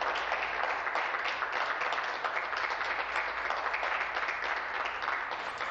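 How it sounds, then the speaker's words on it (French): Members in a parliamentary chamber applaud steadily, a moderately distant, even wash of many hands clapping that continues without pause and with no talk over it. "Je demande à ce qu'on applaudisse John Jenak et toute la famille Jenak."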